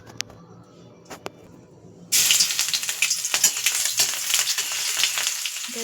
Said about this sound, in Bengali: তো এর মধ্যে এখন আমি দিয়ে দেবো রসুন কুচি